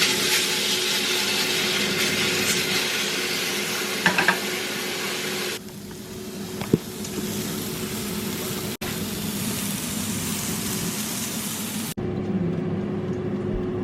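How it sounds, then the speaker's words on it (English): Steak sizzling in a hot pan, a loud steady hiss and crackle with a faint hum beneath, continuing throughout with brief pops. "so I'm gonna pop it on for 2 minutes on the first side, pop it on for 2 minutes on the second side"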